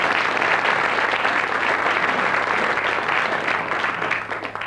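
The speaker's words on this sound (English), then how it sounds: "you clap hard enough when you are awake" A quiz-show studio audience claps steadily and fairly loudly in a continuous burst that thins slightly at the end, with no voices over it.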